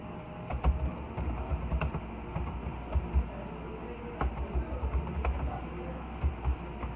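Computer keyboard typing code, a close stream of light irregular key clicks with occasional sharper taps, steady throughout against quiet room noise.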